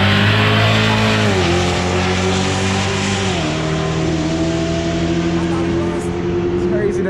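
2021 widebody Dodge Charger with a pedal-box modification, revving loudly up close to heat up at an outdoor car meet; a deep, steady engine drone rises in pitch in a couple of surges.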